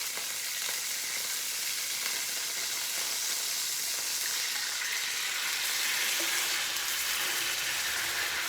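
A 14-ounce can of cherry tomatoes sizzles in a hot pan for pasta alla Norma, a loud, steady, close frying hiss that runs unbroken throughout.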